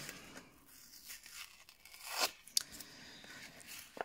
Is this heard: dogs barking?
no